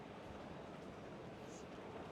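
Steady rumble of a Singapore MRT Brown Line train in motion, a dense continuous low roar filling the carriage with no voices.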